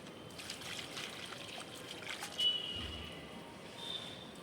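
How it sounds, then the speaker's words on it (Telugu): Water trickles and pours steadily onto soil as a freshly repotted fig plant in a larger pot is watered, a close, soft, continuous stream for a few seconds. "నొక్కిన తర్వాత మనం వాటర్ చేసుకోవాలి"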